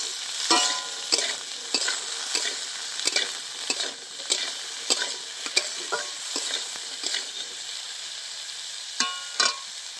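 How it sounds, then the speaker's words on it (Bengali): Bottle gourd peel frying gently on low heat for a chutney, a steady close hiss of oil broken by repeated sharp scrapes and clacks of stirring at an irregular pace. "অল্প আঁচে এবার লাউয়ের খোসাটা আমি হালকা করে ভেজে নেব।"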